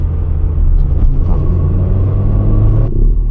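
A cheap car's engine rumbles with a loud, deep, raw exhaust note like a straight pipe, a close, continuous low drone with slight surges.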